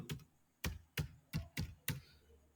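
Six quiet, close keystrokes on a computer keyboard in a loose, uneven rhythm, alone against near silence.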